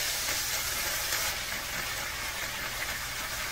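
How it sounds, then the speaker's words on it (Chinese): Tofu frying in oil in a pan gives a steady, dense hiss of sizzling that holds evenly throughout, close and moderately loud, with no voices. "锅里放油，把豆腐炒至微黄变香。"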